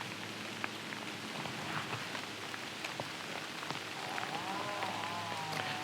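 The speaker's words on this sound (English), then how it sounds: "Rain's coming on again though" Steady rain patters down through woodland at Loch Ard in Scotland, a continuous close hiss of drops on leaves and ground with scattered sharper droplet ticks throughout.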